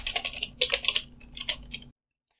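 Keystrokes on a computer keyboard while entering an nmap command, a quick close run of clattering clicks for about two seconds before stopping abruptly.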